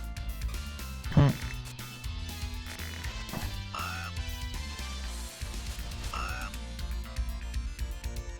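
Croaking frogs in a Castlevania game sound off in a wave of short, warbling calls, with a few distinct croaks spaced across the stretch over a steady game soundtrack while someone talks.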